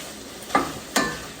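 Mushrooms seasoned with salt and pepper being stirred in a hot pan, two quick scraping stirs over a steady soft sizzle, close and clear with no talking.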